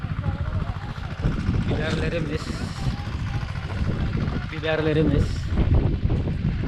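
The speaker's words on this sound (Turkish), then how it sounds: "Keşke şu motor sesi olmasa daha güzel anlaşılacak ama." A motor engine runs outdoors beside an organic vegetable field of tomatoes and peppers, giving a steady low rumble with some wind buffeting beneath a person talking throughout.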